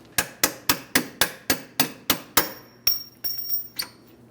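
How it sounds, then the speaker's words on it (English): Hammer striking a punch to drive out a rear suspension bolt on a 2005-2010 Chrysler 300 5.7L V8, a rapid series of about a dozen close metallic blows with bright ringing, slowing toward the end. "A hammer and punch should drive this out the rest of the way."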